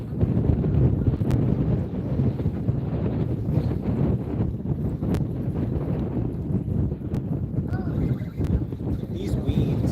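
Strong wind buffets the microphone on a pier in a constant, loud, rumbling roar, with occasional faint knocks and clicks breaking through the gusty noise.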